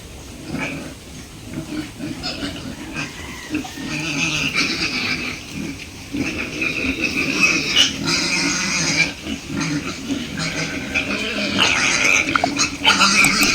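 Farm pigs grunt and oink continuously, several animals close by, with busy layered squeals and grunts that grow louder toward the end.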